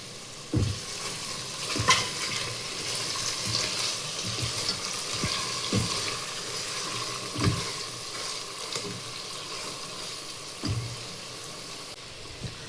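Chicken curry frying in oil that has separated at the edges, stirred with a spoon: a continuous sizzle broken by repeated scraping knocks against the pan, close and fairly loud.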